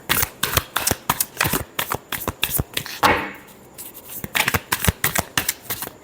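Tarot cards shuffled by hand, a rapid run of crisp riffling and slapping bursts, close and dry, with a brief pause midway before the shuffling resumes.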